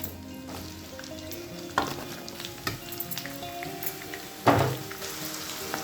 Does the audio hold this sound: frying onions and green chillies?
yes